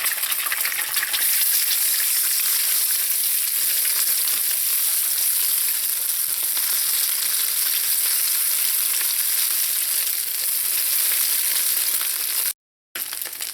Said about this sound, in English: To the wok, I'm going to add in some canola oil, and I'm going to add in that egg, and you're going to scramble that egg now.